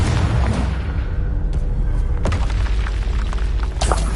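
A Confringo explosion spell from Hogwarts Legacy goes off with loud booming blasts, a sharp impact near the middle and another toward the end, over a dense rumbling game soundscape.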